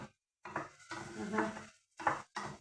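Mushrooms sautéing in a pan, with soft close stirring scrapes and a light sizzle in short bursts broken by brief gaps of silence.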